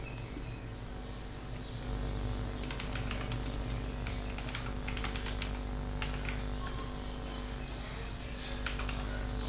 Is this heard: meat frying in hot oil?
no